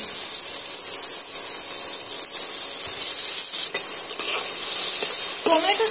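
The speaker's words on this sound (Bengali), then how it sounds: "এবার আমি টমেটোটা এটা কিছুক্ষণের জন্য আবারও ভাজা ভাজা করে নেব।" Tomatoes sizzle steadily in a hot pan, with occasional light scraping and clinks from stirring.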